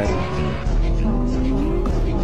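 Nissan GT-R engine and exhaust at high revs, a continuous loud roar with the pitch rising, with tire noise and a voice talking over it.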